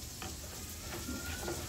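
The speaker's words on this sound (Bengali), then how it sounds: "মশলাটা মাইখে নিলাম" Spice paste is mixed with mustard oil for a tengra fish curry, making quiet, soft squelching and stirring sounds over a faint background hiss.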